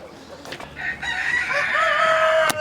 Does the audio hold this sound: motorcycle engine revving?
no